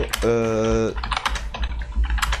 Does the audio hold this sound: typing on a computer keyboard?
yes